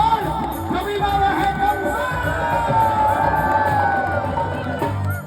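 A crowd at a live devotional bhajan show cheers and shouts continuously, a dense wash of voices with whoops rising over ongoing music for several seconds.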